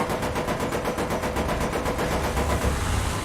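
Rapid automatic gunfire in the War Thunder video game rattles in a fast, even stream of regular bursts over a low engine rumble, loud and continuous throughout.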